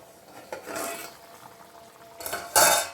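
A lid goes onto a metal pot of dry fish curry with a couple of light clinks, then a louder metallic clatter near the end, all close by over a quiet background.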